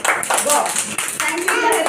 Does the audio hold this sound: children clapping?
yes